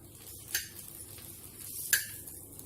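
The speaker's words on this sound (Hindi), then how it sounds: "अब इसके ऊपर मैं तेल डाल दूंगी।" Mustard oil is poured over an onion pitha frying in a pan. A soft, steady sizzle is broken by two brief, sharp bursts, with no talking.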